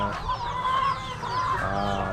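Rhode Island and native chickens cluck and murmur close by in a steady, overlapping chorus during feeding, with no one speaking.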